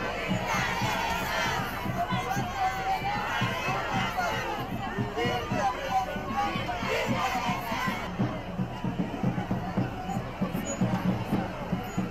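A large crowd of villagers shouts and cheers in a continuous loud roar, with children's voices and excited calls as they turn out to greet the president at an outdoor rally.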